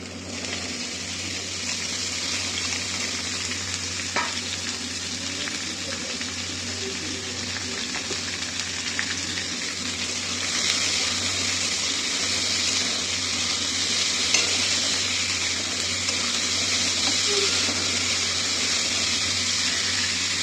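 Mixed vegetables frying in a pan for a vegetarian snack, seasoned with salt and turmeric, hiss in a continuous, fairly loud sizzle with faint stirring and a few small clicks throughout.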